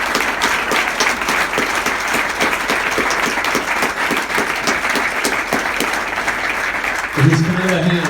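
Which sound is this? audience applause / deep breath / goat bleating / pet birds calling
audience applause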